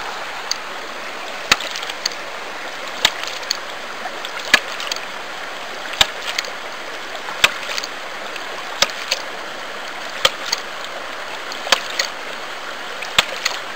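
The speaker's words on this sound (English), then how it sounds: "I guess gonna have to keep shooting the water up the line here for a minute." A ram pump sends water up the line, with sharp clacks at a steady beat of roughly one every one and a half seconds over a running-water wash.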